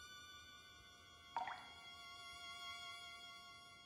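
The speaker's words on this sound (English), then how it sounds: "The dripping noise I heard while I was asleep, where is it coming from?" A single water drip in a video game plops once, close and clear, over a quiet steady tonal hum that carries on before and after it.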